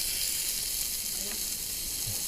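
Steady, dense sizzling of pork belly on a hot Korean-style grill, a continuous bright hiss throughout with no talking.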